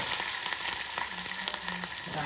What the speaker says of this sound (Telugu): కొత్తిమీర వేసేసుకొని ఇప్పుడు మనము తాలింపు వేసేసుకోవాలి